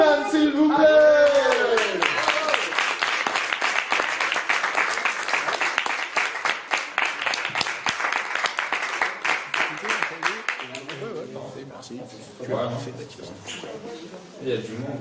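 Applause at a slam poetry evening in a media library in Vence, where a dense crowd claps under a shouting voice at first and the clapping slowly thins into scattered claps with chatter near the end.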